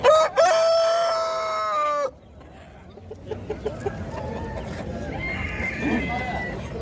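A rooster at a poultry market crows loudly and close for about two seconds, then stops, leaving a busy market murmur with voices talking and a few sharp knocks.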